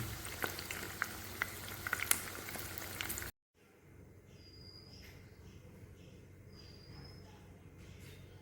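Vadas frying in oil on a medium flame, a steady crackling sizzle with small pops that cuts off abruptly, followed by a quieter, softer bubbling hiss.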